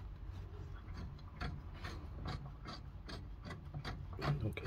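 Ratchet clicking and grinding as tight rear brake bolts are loosened on a 2016 VW Sharan 7N2 during a rear disc and pad replacement, close and steady with repeated rasping strokes over low background rumble.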